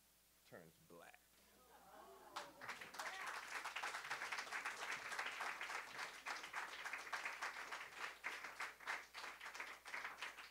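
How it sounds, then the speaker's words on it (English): An audience applauds at a literary festival reading, a brief voice first, then a dense sustained round of clapping that swells and keeps going. "If you feel like I do, give him another round of applause."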